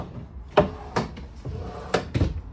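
Cabinet doors and deep drawers in the coffee bar of a 2022 Imagine 2970RL travel trailer open and shut in four sharp wooden knocks and bumps, close by and spaced unevenly over a low room background.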